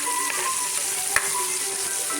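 Bacon fries with black-eyed peas in a frying pan, a steady bright close sizzle with one small tap midway and no voices.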